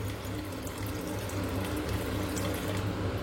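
Water poured from a tap or vessel into a pan for making sugar syrup, a steady continuous splashing stream, close and alone without talk.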